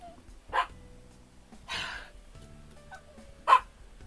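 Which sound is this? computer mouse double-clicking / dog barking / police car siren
dog barking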